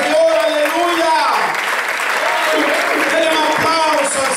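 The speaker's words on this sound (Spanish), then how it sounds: "Denle un aplauso al Señor." A church congregation applauds during a sermon, clapping spread through the room while voices ring out over it, with speech or singing tones prominent above the clapping.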